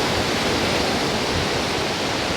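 Ocean water washes in at a sandy beach on a hot day, a steady broad rushing hiss of surf that stays constant and fairly close with no talking.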